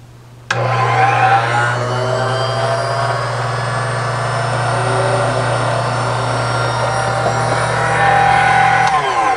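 A small motorized drill bores a hole through thin brass sheets for a diecast Caterpillar D11N model, starting suddenly with a loud, steady high-pitched whine that holds nearly unchanged until it stops.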